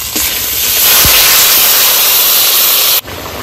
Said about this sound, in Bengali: ভালো করে কষিয়ে নিয়েছি, জল দিয়ে দেবো।